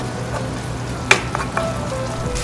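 Minced garlic and kimchi sizzle steadily in hot sesame oil, a close, continuous frying hiss broken by a couple of sharp clicks from stirring.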